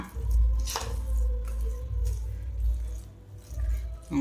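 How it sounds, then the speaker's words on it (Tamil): Cooked samai millet pongal is lightly mashed in a pot, making soft, wet squelches and dull thuds up close in a brief stretch of repeated strokes. "இதை அப்படியே வந்து லைட்டாக ஸ்மாஷ் பண்ணி விடுங்க."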